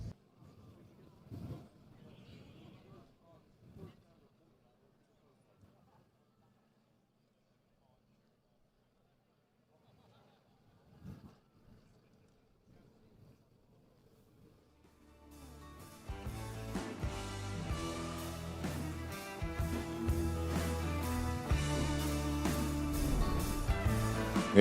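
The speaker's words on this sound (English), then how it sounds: "I can hear the car, I still can't see him." A nitro-fuelled drag racing car approaches down the strip at a drag racing event, first faint and distant with scattered voices, then a loud, harsh, crackling engine roar that swells and keeps building.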